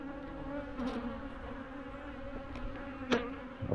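Aggressive honey bees buzz around a failing apiary, a faint continuous drone with a few individual bees passing close by in brief, sharper whines.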